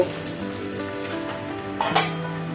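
Ginger-garlic paste fries in a pan for a Bengali chicken curry, making a close, steady sizzle with a couple of brief stirring scrapes near the end and no voices.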